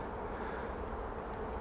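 Honeybees from an isolation apiary nuc swarm while being transferred into a poly hive, a steady, fairly faint droning buzz over a low hum.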